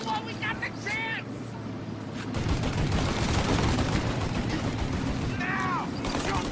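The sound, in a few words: gunfire in the video game Mafia: Definitive Edition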